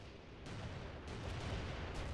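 Heavy artillery barrage in the Cold War strategy game World in Conflict: Soviet Assault, a dense, continuous rumble of distant shelling with low booms swelling in waves, no voices.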